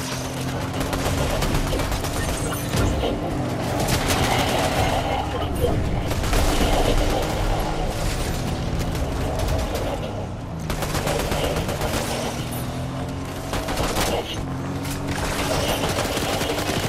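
Rapid bursts of gunfire in the video game Fortnite, dense and continuous with overlapping shots and booms throughout, loud and busy under a game soundscape.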